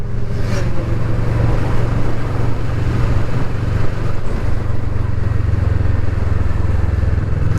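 Kawasaki Vulcan S (2020) motorcycle cruising on the road, its engine holding a steady, loud, continuous low drone with wind noise throughout, no speech.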